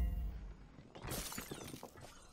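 A Superhot enemy shatters into glassy fragments in a bright, crashing burst that starts abruptly and then scatters into tinkling, decaying debris.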